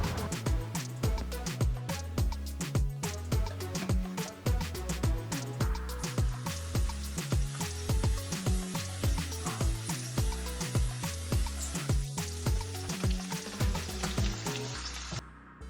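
Chopped vegetables frying in a pan with a steady, dense sizzle and crackle that carries on loudly for the whole stretch, with small clinks and stirring noises scattered through it.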